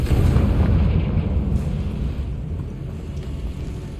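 A Confringo fire-blasting spell explodes in Hogwarts Legacy, a loud, heavy boom that rumbles and slowly fades over several seconds.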